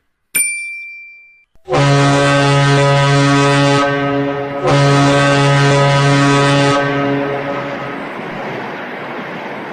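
A deep, loud ship horn blasts twice, each a long sustained tone, after a brief metallic ding, fading into a lingering echo.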